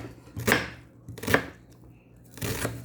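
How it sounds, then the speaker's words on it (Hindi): A knife finely chopping onion on a board: three separate, crisp strikes spaced roughly a second apart, close and clear over a quiet kitchen hum. "तो मैं थोड़ी सी प्याज भी आपके सामने ही कुतर दूँ।"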